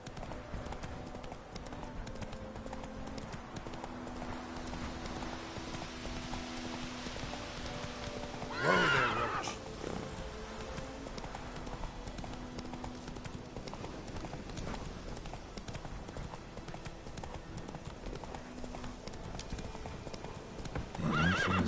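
A horse in The Witcher 3 gallops with rhythmic clip-clop hoofbeats and gives one loud, close neigh midway, over a background game music bed.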